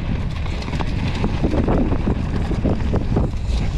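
Gusty wind buffets the microphone at a mountain bike park in Pal Arinsal, a constant loud rumbling roar with fluttering bursts throughout.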